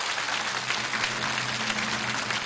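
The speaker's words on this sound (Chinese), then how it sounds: "有的鼓掌。" A studio audience at a televised lecture claps in a dense, steady burst of applause that holds at an even level from start to finish.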